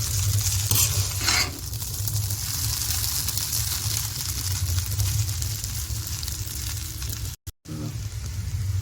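Chowmein being stirred and tossed with egg bhujia in a hot pan, a steady close sizzle with scraping stirs throughout and a brief break near the end.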